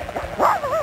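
Short dog yip or bark from the 1998 PlayStation game A Mars Moose Adventure, a couple of quick rising and falling cries that sound close and fairly loud, heard alone without talk.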